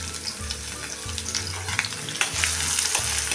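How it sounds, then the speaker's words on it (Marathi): Finely chopped onion frying in oil in a pan for a guar bean curry, stirred now and then: a close, steady sizzle with scraping stir sounds, continuous and fairly loud, no talk. "कांदा बघा चांगला लालसर होईपर्यंत परतून घेऊया।"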